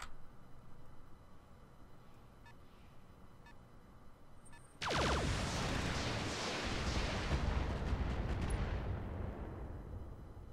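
Mech weapons in the Roguetech video game open fire after a few faint clicks, then a loud, dense barrage of blasts and booms runs unbroken for several seconds.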